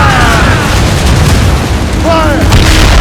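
Ship cannon fire during a naval battle in Assassin's Creed Rogue, a loud continuous rumbling barrage of booms with no break, close and heavy, with a shouted voice partly audible beneath.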